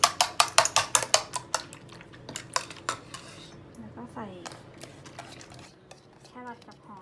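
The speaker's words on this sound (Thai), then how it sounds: "ก็ตีไข่" Eggs being beaten: rapid clinking of a utensil against a bowl, quick sharp taps in a fast rhythm that slow and soften, close by with faint sizzling behind.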